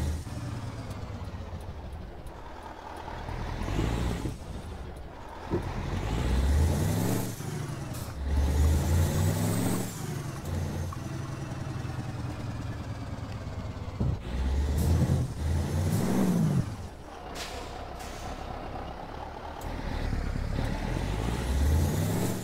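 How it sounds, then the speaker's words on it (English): Iveco 190-38 truck engine in Euro Truck Simulator 2, loud and steady with repeated rising revs through gear changes and a hiss like an air brake, heard alone without talk. "I do like the sounds of this truck."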